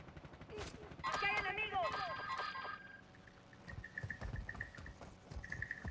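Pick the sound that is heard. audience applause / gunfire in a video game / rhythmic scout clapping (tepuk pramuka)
gunfire in a video game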